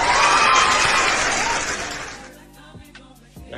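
Crowd applause and cheering plays as an effect during a live stream, a dense burst that fades out after about two seconds, followed by a few faint knocks.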